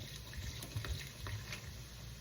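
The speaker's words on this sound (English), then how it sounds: "So I'm going to put in 2 bottles of stout." Two bottles of stout are poured into a steak pie filling in a home kitchen, giving a faint, steady liquid glug and splash that lasts a couple of seconds.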